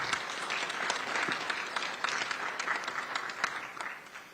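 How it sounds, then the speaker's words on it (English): A conference audience applauds its sponsors, steady dense clapping from a crowd that fades toward the end. "If we could give a quick round of applause of gratitude to our sponsors."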